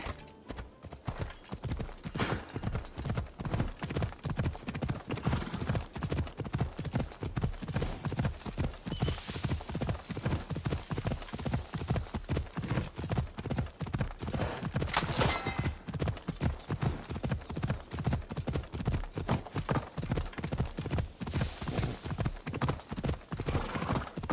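Horse hooves clip-clop steadily in the video game Assassin's Creed Odyssey, a fast, even galloping rhythm of close, distinct hoof strikes with occasional whinnies and a faint constant hiss behind.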